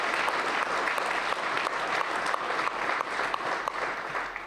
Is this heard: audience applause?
yes